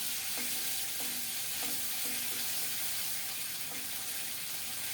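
Ginger-cumin paste frying in a little oil with a bay leaf over lowered heat, a broad steady hiss with faint intermittent scraping taps, even and moderately quiet throughout.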